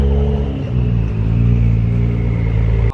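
Deep rumbling exhaust of a lowered Acura NSX with downpipes idling close by, a steady throaty drone with a slight rise and fall in pitch.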